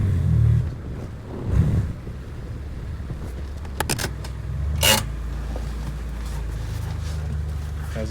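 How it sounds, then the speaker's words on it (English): A 1991 Toyota Corolla DX engine idles steadily with a low, constant rumble, broken by a couple of brief clunks and rustles nearby early on. "Idling, still running like a champ."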